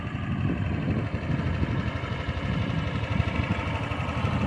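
A Tahiti 150cc scooter engine idles steadily with a low, even putter, close by and continuous, with no talking over it.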